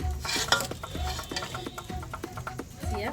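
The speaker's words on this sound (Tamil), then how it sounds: "இப்போ அரிசியை போட்டோன்னா நல்லா கிண்டி விட்டுருங்க." Rice is stirred into chicken biryani in a pot, giving a rhythmic series of close scraping and clinking strokes over a soft sizzle.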